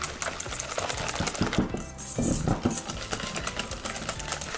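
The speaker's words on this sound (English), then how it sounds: "So give your mix a good whisk." Yorkshire pudding batter whisked in a bowl, a busy run of rapid clinking and scraping strokes over background sounds, with faint talk behind it.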